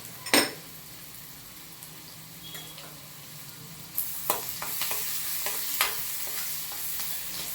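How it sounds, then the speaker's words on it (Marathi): Crushed garlic cloves fry in a pan for spicy garlic spinach bhaji, with a soft steady sizzle, an early utensil knock, and a louder run of scraping stirs and clinks toward the end. "छान फ्राय करून घेऊया आपण लसूण त्यामध्ये"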